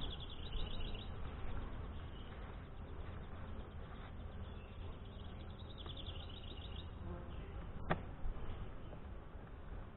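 Saskatraz daughter honey bees hum in a steady, dense buzz throughout a hive inspection in the Northwest, with individual bees droning close by and a brief sharp knock near the end.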